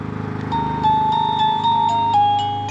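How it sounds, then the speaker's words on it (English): A doorbell rings with a short electronic chime of a few sustained tones that step in pitch, heard over a steady low hum from charging equipment. "I got a doorbell."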